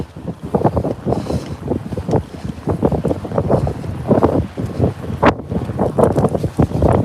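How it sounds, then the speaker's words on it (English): Strong, gusty wind buffeting the microphone of a rider on an electric mountain bike on streets, riding into a headwind uphill, with loud continuous low rumble and irregular bursts throughout, no speech. "Got the wind in my face, so the hood's going to be going up."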